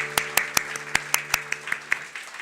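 A church congregation claps together during a Sunday worship service, about a dozen sharp, evenly spaced claps in a steady rhythm over a low background hum.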